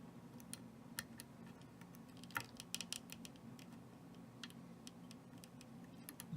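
Inside an Ikon SK6 lock, the pick makes a series of faint, sparse ticks and clicks as pins are worked and set, quiet and close against a low steady hum.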